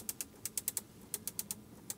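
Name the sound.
clicking of knurled air vent control in Bentley Bentayga S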